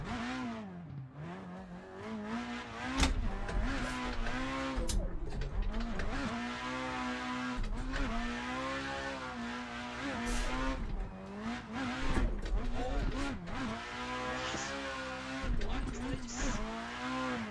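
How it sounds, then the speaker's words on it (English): A race car engine in a drifting video game revs and wails through shifting pitches, with tire squeals and skids layered in, loud and continuous, while someone talks over it. "Oh my god, this thing sounds unreal with this engine sound."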